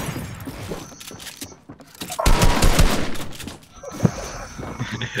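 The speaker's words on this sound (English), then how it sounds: "This shotgun literally sucks." Video-game gunfire during a shooter match, shotgun blasts among rapid cracking shots, loud in a burst near the middle, with excited players talking throughout.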